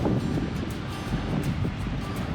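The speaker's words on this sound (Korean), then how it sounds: "아 파도 좋다" Ocean waves break on a beach in Guam as a continuous low surf rumble, heavily mixed with gusty wind buffeting the microphone, steady and fairly loud throughout.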